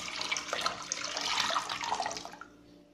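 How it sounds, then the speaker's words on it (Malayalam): Water poured from a vessel into a pan of Kerala sadya-style rasam, a steady splashing rush lasting a few seconds before tapering off, close and fairly loud with no talking. "ഇനി നമുക്ക് രസത്തിന് എത്രയാണ് ആവശ്യം അത്രയും വെള്ളം ചേർത്ത് കൊടുക്കാം."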